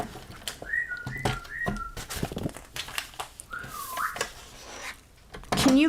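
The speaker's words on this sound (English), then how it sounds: "Can you guys hear the bird?" Bird whistling outdoors, several short rising-and-falling whistled notes heard faintly through clattery indoor crafting noises of rubbing and tapping, with no talking.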